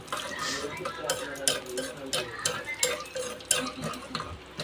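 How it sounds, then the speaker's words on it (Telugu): A spoon scrapes and stirs a puffed rice mixture in a pan, a quick, rhythmic run of close metallic scrapes and rattles over a faint sizzle. "కలుపుతూనే ఉండండి"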